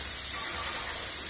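A Vevor 450 airless paint sprayer blasts paint in a steady, loud, unbroken hiss that lasts the whole moment, with no voices.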